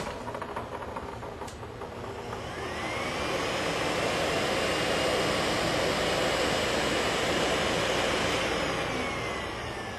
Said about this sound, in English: This is now what a Miele S7 sounds like.